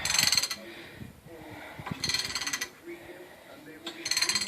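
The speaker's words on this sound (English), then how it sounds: "See how long this ratchet is? You want to put a lot of pressure on it." A long ratchet wrench loosens a stubborn axle perch nut in three bursts of rapid metallic clicking, close up, separated by quieter gaps with faint workshop noise.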